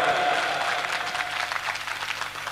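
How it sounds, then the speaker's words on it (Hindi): Audience applause at a Rajasthani comedy stage program, a dense wash of clapping that stays fairly steady and moderately loud for the whole stretch, with no voices standing out. "जो तालियां बजा के आशीर्वाद दे रहे हैं ये पूरा आशीर्वाद कुंभट परिवार को मिलता रहे।"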